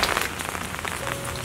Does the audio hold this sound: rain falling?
yes